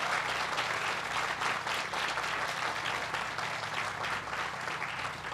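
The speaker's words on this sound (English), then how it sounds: "Let's give them a round of applause and thank them." Steady crowd applause from an audience at a Chicago Kroc Center groundbreaking ceremony, dense continuous clapping that holds evenly throughout with no pauses.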